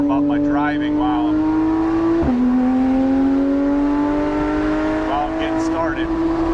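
Porsche 991.1 GT3 RS on the Cherohala Skyway mountain road, its engine a loud sustained whine heard from inside the car, with one sharp gear shift partway through and pitch climbing again afterward.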